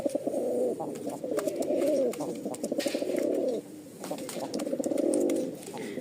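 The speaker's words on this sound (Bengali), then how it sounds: "ডাকটা দেখেন, মন জুড়ানো একটা ডাক কবুতরের।" Rajshahi Giribaj pigeons cooing close up, with repeated throaty coo phrases rolling one after another across the whole stretch, loud and clear over light background noise with a few soft chirps and clicks.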